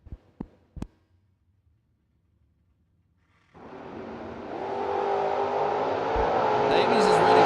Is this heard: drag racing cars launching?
yes